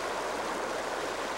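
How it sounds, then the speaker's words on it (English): A river flows below a bluff, its steady rushing gurgle rising from beneath as a continuous, even wash of water noise. "The students learned that the gurgling sounds come up the bluff from an angle."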